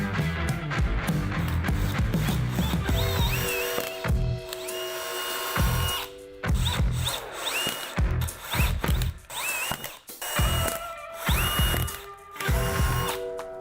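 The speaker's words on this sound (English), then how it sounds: "use my 1/4 inch drill bit to get through the plastic" A power drill with a 1/4 inch bit bores through plastic in several bursts, the motor whining and grinding close up, with brief pauses and ratcheting clicks between runs.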